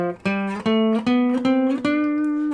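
Guitar picks out the intervals of a D Dorian scale, six distinct notes struck one after another and left ringing, each a clear, close, sustained tone stepping upward, with no talking.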